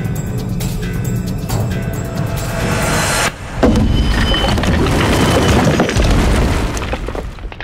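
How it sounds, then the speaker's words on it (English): A 32 kilogram weight dropped 3 metres onto thick concrete hits with a loud, heavy boom, followed by a sustained roaring crash and rumble of debris that fades slowly. "I'm going to drop a small 32 kilogram weight, just 3 metres"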